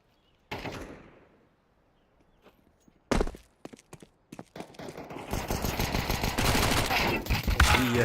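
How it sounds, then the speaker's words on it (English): Rifle gunfire from AK rifles in a Counter-Strike esports match: a sharp burst early on, isolated cracks later, then dense overlapping automatic fire building loud toward the end. "Some simultaneous AK shots"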